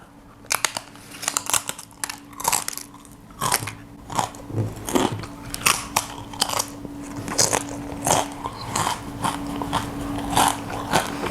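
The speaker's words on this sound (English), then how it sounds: "It's hard to freaking chew" Hard food being bitten and chewed up close, with loud repeated crunches and cracks coming in an irregular rhythm throughout, over a faint steady hum and with no talking.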